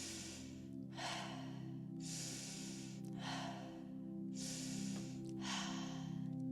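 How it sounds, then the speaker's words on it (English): Slow, rhythmic breathing during a guided morning meditation: in through the nose, out through the mouth. Soft whooshing breaths come in an even cycle, about three full rounds, quiet and close, with a low steady hum beneath. "in through the nose, out through the mouth"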